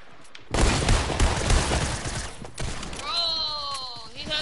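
SMG fire in a video game, heard as dense, loud, rapid bursts of gunshots. A short break follows, then more shots, with a whistling, rising tone in the background.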